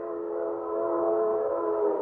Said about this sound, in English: Oh, that train whistle.